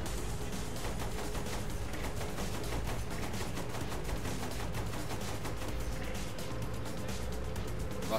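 Rapid machine gun fire in the video game Saints Row: The Third rattles on almost without pause, a dense stream of sharp shots at a steady loudness.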